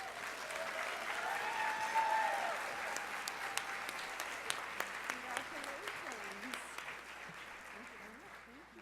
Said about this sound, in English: Please give a warm welcome to Nancy Stager.